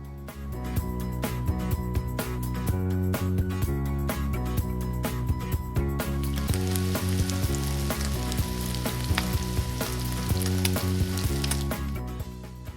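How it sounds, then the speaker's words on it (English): Steady, loud sizzling of vegetables frying in a frying pan for Korean jajangmyeon, cooked until translucent, a dense crackling hiss that continues without pause, with no voices. "you cook the vegetables until it's translucent"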